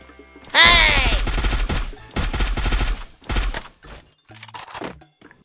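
Gunfire in the battle royale game Free Fire comes in several loud, close bursts of rapid shots separated by short pauses, opening with a rising whine and ending in softer, scattered shots.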